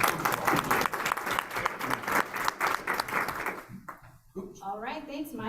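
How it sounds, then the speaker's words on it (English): Audience applause at a university change-champion kickoff event, a dense wash of clapping that fills the room, then thins and fades out near the end as a voice begins speaking. "give her a big round of applause"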